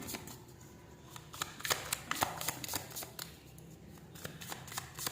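Tarot cards being shuffled by hand, a run of crisp close riffling flutters and soft slaps in irregular bursts, heard alone at low volume.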